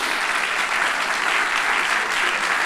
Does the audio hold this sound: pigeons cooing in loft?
no